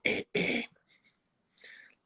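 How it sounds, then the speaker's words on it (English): A person clears their throat twice in quick, loud bursts, followed by faint breathy sounds and a softer third rasp after a brief pause, in a quiet indoor room. "Let me clear my throat."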